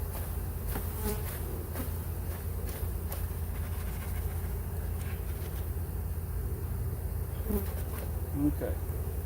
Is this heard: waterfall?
no